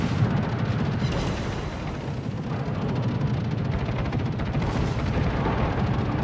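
Naval guns of the destroyer Clemson fire in World of Warships on the Archipelago map, making a continuous, loud, rumbling barrage of dense overlapping booms with no clear gaps.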